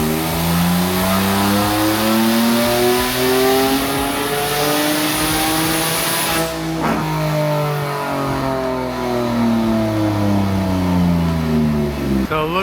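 A single-turbo Kia Stinger engine on a dyno roars loudly through a sustained rev pull, its rising harmonics climbing steadily with a brief break midway, running continuously at close range without voices.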